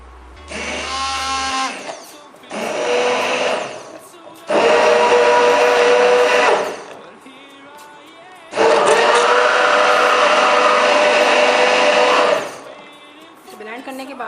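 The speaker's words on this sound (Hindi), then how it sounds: "आप इसे ब्लेंडर में भी ब्लेंड कर सकते हैं।" A kitchen blender whirs through bread slices and milk for kulfi in several separate bursts, short pulses followed by a longer loud run, with quiet pauses between them.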